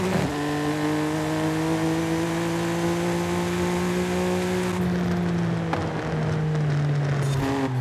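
A race car engine in Forza Horizon 5 holds a loud, sustained rev, its pitch shifting slightly as the gears change, with a faint click partway through and no one talking over it.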